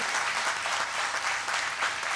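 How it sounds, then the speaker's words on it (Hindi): An audience at a Hindi poetry gathering in Bhiwani's cultural hall applauds in welcome, a soft, distant, even patter of many hands clapping throughout. "तालियां बजा के स्वागत होना चाहिए कि नहीं होना चाहिए?"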